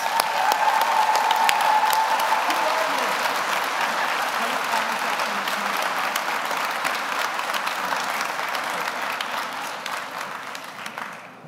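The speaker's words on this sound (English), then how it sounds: "So a big round of applause for our" Sustained applause from an audience honoring 2024 nursing graduates at a pinning ceremony, a dense, steady clapping that runs for about eleven seconds and tapers slightly toward the end.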